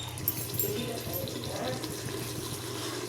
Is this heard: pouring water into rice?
yes